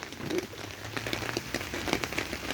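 Rain falls outdoors during a dry-season storm as a faint, steady patter with scattered crackling drops throughout, and no voices.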